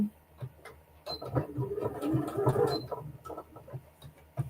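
A sewing machine stitches a fat-quarter fabric pillow, giving a quiet run of fast, rhythmic mechanical ticking that swells in the middle and then eases off.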